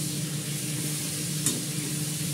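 Kashmiri chili powder, bay leaves and green chilies sauté in a pan, giving a steady, close sizzle with faint stirring and no voices.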